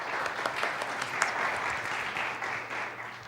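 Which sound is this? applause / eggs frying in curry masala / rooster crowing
applause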